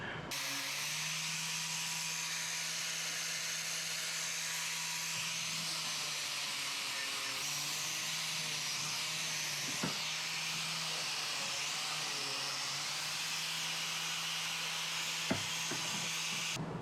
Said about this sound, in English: I need to clean this off with the wire wheel